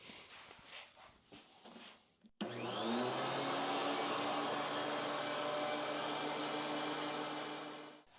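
A thickness planer fitted with a new helical cutterhead spins up abruptly after some quieter handling noise, then runs steadily as a loud, even rumble with a sustained hum for several seconds before winding down.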